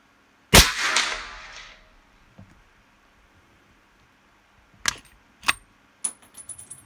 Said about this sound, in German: Zwei Schuss mache ich.